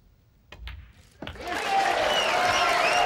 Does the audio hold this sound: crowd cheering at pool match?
yes